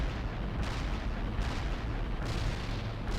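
Continuous rumbling barrage of artillery fire in the real-time strategy game World in Conflict, Soviet assault mission, a steady wash of distant booms and blasts with no clear gaps.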